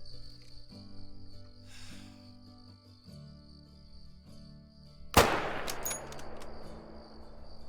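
Mosin rifle fired at a jackalope in the hunting game Call of the Wild, one sharp loud shot cutting through steady cricket and insect ambience, followed by a fading rumbling echo.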